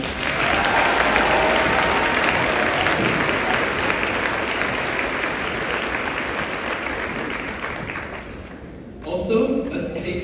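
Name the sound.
graduation audience applause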